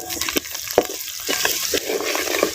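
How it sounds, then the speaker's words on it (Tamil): Curry leaves and shallots sizzling in hot oil for a Chettinad viral fish curry, with crackling pops and spatters over a steady fry, close and moderately loud. "கருவேப்பிலை வந்து உருவி சேர்த்துக்கிறோம்"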